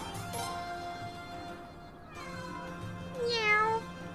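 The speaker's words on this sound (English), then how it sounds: "Meow. Kitty cats. Kitty cats." Cartoonish cat meows from the Suikoden V video game, several rising and falling mewing calls over a steady tonal game-music bed, the last meow clearer and louder near the end.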